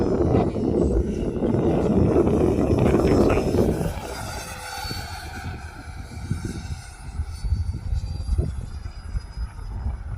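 A Freewing F-22 RC jet with a 90mm electric ducted fan roars loudly through a tight loop, then its whine fades into the distance, with faint voices nearby.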